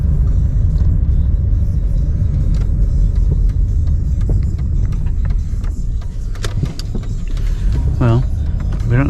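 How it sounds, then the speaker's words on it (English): Street traffic rumbles steadily nearby, a loud low engine drone from passing cars with people talking over it. "That's the street, an actual street with traffic."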